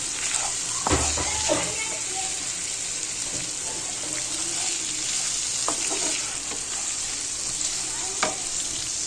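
Chicken frying in a pan as masala is stirred in, a continuous bright sizzle with scattered scraping and clinking of the spoon against the pan, close and steady throughout.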